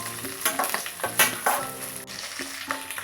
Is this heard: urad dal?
yes